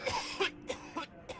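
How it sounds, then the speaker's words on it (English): Four or five short, dry coughs spaced apart, fairly quiet and close, with no talking. "Why am I hearing coughing?"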